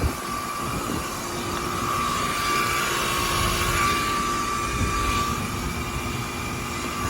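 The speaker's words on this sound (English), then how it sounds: "that was this 1989 3-ton Carrier heat pump starting up in cool mode" A 1989 3-ton Carrier TECH 2000 heat pump with a Carlyle reciprocating compressor runs in cool mode, giving a loud, steady, droning roar with a constant hum that holds throughout.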